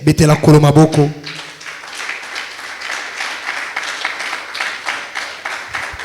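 A church congregation claps and applauds the Lord in steady, sustained applause that follows a loud burst of sung or shouted voices at the start, with talk continuing beneath the clapping.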